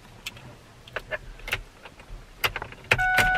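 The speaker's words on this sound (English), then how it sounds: "Gotta put the keys in." Keys jangle and clink in a series of sharp metallic taps as they go into the ignition of a Ford 6.4L Powerstroke truck, ending in a steady chime tone once inserted, close and fairly loud.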